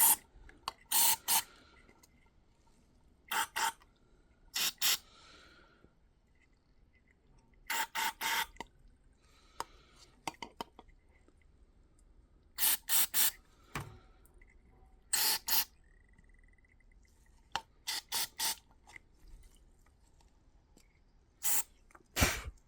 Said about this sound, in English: Go through and we'll blast out all these various passages.